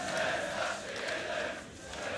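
Fans in the arena at the ESL One 2015 Katowice CS:GO quarterfinal (Keyd Stars vs Virtus Pro, Nuke) roar and chant as a sustained, distant crowd swell that dips slightly and rises again.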